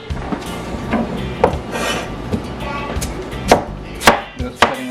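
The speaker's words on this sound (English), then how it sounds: "Just cutting up all my ingredients for my soup." Ingredients for Jamaican beef soup being chopped with a knife on a board, a close series of irregular sharp thuds and scraping cuts over a low kitchen background, with no talk.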